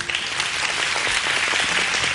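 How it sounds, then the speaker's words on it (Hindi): Studio audience applause on a Hindi morning talk show, a dense steady wash of many hands clapping throughout, fairly loud and close, with no voices over it. "ताली तो बनती थी यहाँ"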